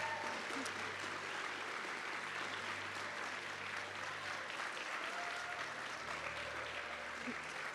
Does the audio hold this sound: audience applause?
yes